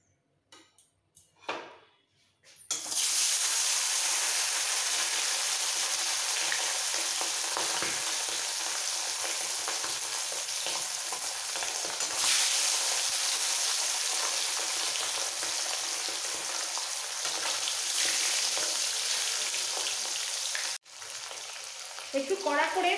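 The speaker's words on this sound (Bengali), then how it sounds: "তেল ভালোভাবে গরম হয়ে গেছে, নুন হলুদ দিয়ে মাখানো মাছগুলো ছেড়ে দিচ্ছি।" Salted, turmeric-rubbed pomfret fish dropped into hot mustard oil, setting off a loud, dense, continuous sizzle up close that runs unbroken for about twenty seconds after a few brief opening clatters, with no talk.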